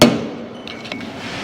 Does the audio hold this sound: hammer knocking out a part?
yes